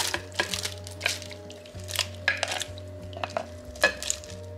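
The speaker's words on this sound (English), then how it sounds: "We're just gonna mix that around really good." Beef stirred in a pan with Worcestershire and Dijon mustard sauce gives a string of close, irregular scrapes and clinks of a utensil against the pan over a low, steady hum, with no talking.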